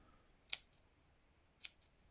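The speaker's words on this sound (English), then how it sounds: "I'd say that the Victorinox are much more snippy as scissors" Small Victorinox folding scissors from a Swiss Army knife snipping twice, two crisp, faint metallic clicks about a second apart against quiet background.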